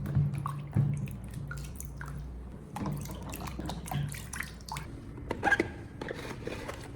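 Fresh tomatoes being rinsed by hand under a running kitchen tap, with splashing and dripping water, wet squishing of the fruit and occasional knocks, close and steady with no talking.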